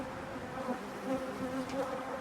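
Honeybees at a hive, a continuous soft buzzing drone, fairly faint and even, with no voices.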